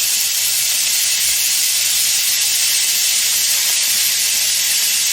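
Meat frying in a pan for spaghetti sauce produces a loud, unbroken sizzling hiss, close and constant, with no other sounds.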